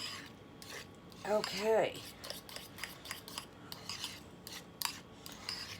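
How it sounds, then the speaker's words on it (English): A utensil stirs and scrapes deviled egg filling with Dijon mustard in a bowl, giving soft irregular scraping and clinking close up, with a brief voice heard partway through. "Make sure you stir it all together."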